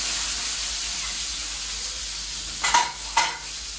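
Radhuni spice frying in hot oil in a Bengali home kitchen, a steady low sizzle with two short louder spurts of crackling near the end, no talking.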